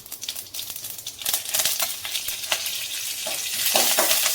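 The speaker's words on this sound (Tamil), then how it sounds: "அடுத்து வந்து வரமிளகாயும் கருவேப்பிலையும் போட்டு வதக்கிட்டு போகிறோம்" Cumin, dried red chillies and curry leaves crackle and sizzle in hot oil alongside mustard seeds and chana dal, a close, busy frying hiss dotted with sharp pops and spits that grows slightly louder toward the end.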